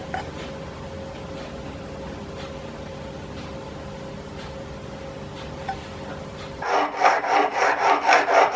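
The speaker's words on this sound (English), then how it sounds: "So we just need to make the top of the screw head flat. So I've got my screw polishing jig." A tiny watch screw head is rubbed flat in a small polishing jig, a steady close scraping hiss running evenly, then turning louder and coarser with rapid repeated strokes near the end.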